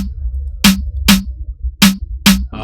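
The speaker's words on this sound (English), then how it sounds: "So then I added a snare." Snare hits from a reggaeton drum kit land four or five times in a steady pattern. Each crack is loud and bright over a low bass pulse, with no talking.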